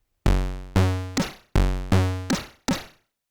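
Chiptune bass and a little snare from the SY chip engine of an Elektron Analog Rytm drum machine play a short pattern of bright, buzzy bass tones and noisy snare hits with sharp attacks and quick decays, repeated twice, clean and without talk.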